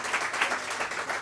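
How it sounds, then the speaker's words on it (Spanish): A concert audience applauds two young singers with brief, fairly close clapping that sounds like a dense patter of many hands and lasts only a moment. "Un fuerte aplauso para ellos dos"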